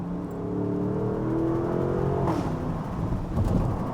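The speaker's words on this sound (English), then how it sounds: "You get a lot of pops, burbles, crackles, you could even call them." A Porsche Cayenne GTS Coupé V8 engine revving and dropping through downshifts with a burbling exhaust, a sharp crackle near the middle, steady road rumble throughout.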